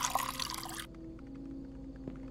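Water poured into a cup in the game Fears to Fathom, a brief bright splashing stream that cuts off abruptly, then a quiet hum.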